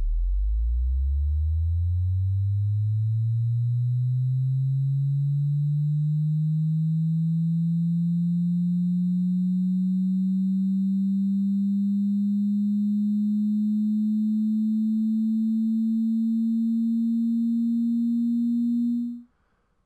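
A pure sine tone, the first harmonic of a seismic vibrator sweep, rises steadily from a deep rumble to a low hum over about nineteen seconds, loud and even, then stops abruptly.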